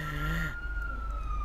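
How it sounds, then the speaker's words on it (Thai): An emergency vehicle siren outside a studio sweeps down and then holds a steady wail, faint and distant beneath someone speaking. "นี่คือเสียงรถหวอครับแทรกเข้ามาด้วย"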